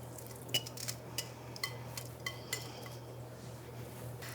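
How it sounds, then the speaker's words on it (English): Pasta and peas are stirred into a glossy cacio e pepe sauce, giving soft scattered clinks of a utensil against a pan over a steady low hum, with no talking. "So now let's add the pasta and peas. Mix that all together."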